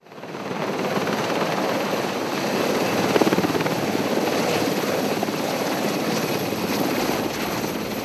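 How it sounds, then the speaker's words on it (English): A military helicopter at a forward operating base gives a steady, loud rotor thrum and engine roar that holds evenly throughout, with no voices. "Aircraft fly in and out of FOB Altamar on a daily basis"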